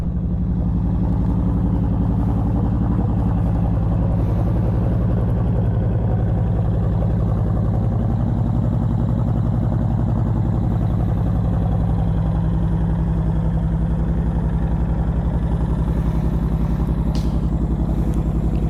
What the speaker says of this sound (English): Just turn it on, and these are fuel injected, so they start up without too much problem.